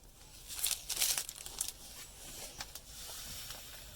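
A 25-gram packet of citric acid emptied out, crinkling plastic and a brief rush of granules pouring, close and quiet, loudest early then trailing into lighter rustles, no speech.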